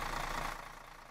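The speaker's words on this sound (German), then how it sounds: "machen wir mal die Motor an" A bus engine in the OMSI 2 bus simulator game idles with a steady, moderately quiet drone that eases off slightly partway through.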